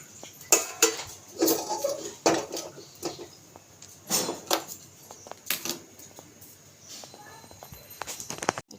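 A kadai (wok) set down on a home kitchen stove, with a series of sharp metallic clanks and knocks at irregular intervals, some louder and close, separated by quieter gaps.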